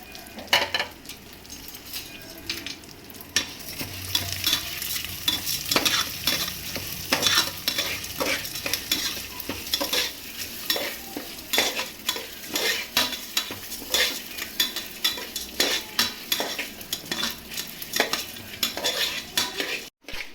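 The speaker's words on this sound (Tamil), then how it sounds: "பூண்டு, மிளகு, ஜீரகம், காஞ்ச மிளகா, வெந்தயம் எல்லாத்தையும் இப்போ வதக்க போகிறோம்" Garlic, pepper, cumin, dried chilies and fenugreek frying in hot oil, a continuous sizzle broken by rapid metal spoon scrapes and clinks against the pan, close and fairly loud, no talking.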